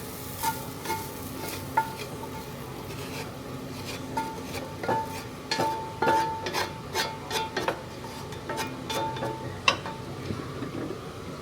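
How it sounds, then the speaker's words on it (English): Food is scraped from a plate into a crock pot with a series of quick, close rasping and scraping strokes, clustering into a busy run near the middle. "I'm going to scrape it all in there, and I'm going to lay it flat on the bottom"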